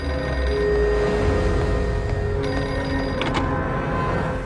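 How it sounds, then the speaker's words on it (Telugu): A public telephone on a railway station platform rings steadily, a sustained electronic tone under faint background noise. "ప్లాట్ఫామ్ నెంబర్ 1 మీద ఉన్న పబ్లిక్ టెలిఫోన్ రింగ్"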